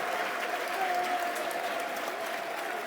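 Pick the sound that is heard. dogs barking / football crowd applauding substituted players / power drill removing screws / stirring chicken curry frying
football crowd applauding substituted players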